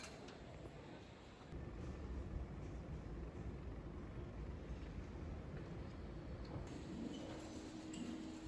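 An airport railroad train runs steadily with a continuous low rumble and rail roar, swelling slightly as it gathers pace, with no talk.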